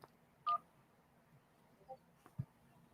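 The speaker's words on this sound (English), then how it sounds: "Press 1 to connect." A single short keypad tone from pressing 1 on a phone during an automated call connection, heard once and alone against a quiet line, with a few faint clicks after it.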